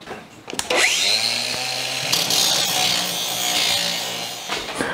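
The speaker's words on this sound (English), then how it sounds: "life's too short to be struggling with these old rusty bolts. It's ridiculous. I'm just going to grind them out." A power grinder whines as it bites into old rusty bolts on a truck, a steady harsh scraping roar lasting several seconds after a brief spin-up.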